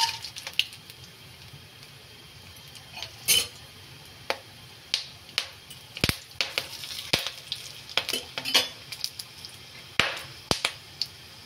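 Whole garam masala spices crackle and sizzle in hot ghee for a Bengali vegetable polao made with Gobindo Bhog rice, a steady frying hiss broken by sharp pops and clicks near and far, with no voices.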